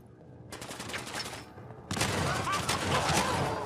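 Shotgun blasts in Fallout 4, played in survival mode against mutants, ring out in a dense burst of loud, close gunfire that fills the second half after a quieter stretch of game noise.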